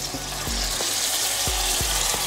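Vietnamese spring rolls (nems) fry in hot oil at about 180 degrees, a steady close crackling sizzle with occasional soft bubbling pops and faint stirring bumps.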